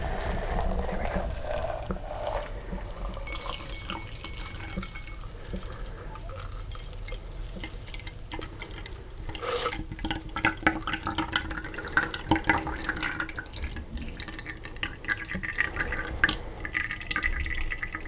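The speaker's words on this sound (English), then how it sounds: "Use our little strainer." A cocktail poured through a small strainer, with trickling liquid, dripping and light clinks of glass and metal in a close, quiet setting, with occasional soft sounds between.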